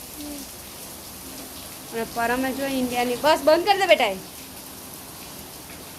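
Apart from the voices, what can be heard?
heavy rain falling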